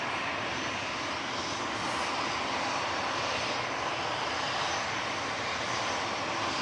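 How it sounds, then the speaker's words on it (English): An ATR 72 turboprop in mustard-yellow livery arrives from Guernsey, its engine drone a steady, broad roar held at an even level across the whole stretch, with no voices over it. "ATR 72, coming in from Guernsey."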